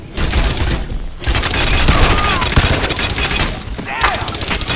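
Gun firing in Crysis 2, with sustained loud, close bursts of rapid shots and brief gaps between volleys, set against a dense game background.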